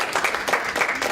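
Lecture audience at San Diego Mesa College applauding, a steady wash of many hands clapping at moderate volume, brief and without any talk over it.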